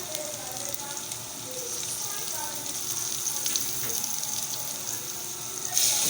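Liquid stock pouring into a melon seed soup mixture, a steady close splashing and hissing stream that swells slightly toward the end.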